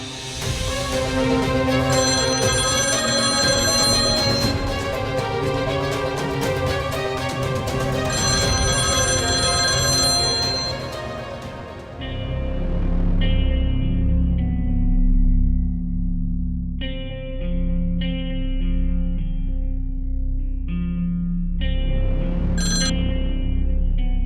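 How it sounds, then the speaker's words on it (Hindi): A phone ringtone plays loudly and continuously as a bright, repeating melodic chime, later shifting to a different tonal pattern with a deeper undertone, heard alone without talk. "क्यों फोन कर रहे हो तुम मुझे?"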